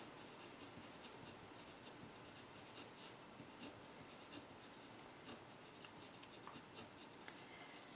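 Pen or pencil writing steadily on a paper math worksheet about paired sampling, a continuous close scratchy scribble with small taps and strokes throughout, no talking.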